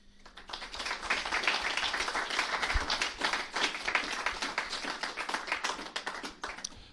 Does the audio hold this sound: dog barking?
no